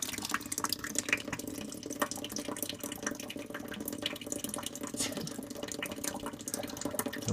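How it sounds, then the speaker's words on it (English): Water runs steadily out of a freshly cut copper and PEX supply pipe into a bucket, a faint continuous trickle and splash heard close by without speech. "So as I'm cutting, some water is going to go out."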